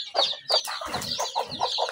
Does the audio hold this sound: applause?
no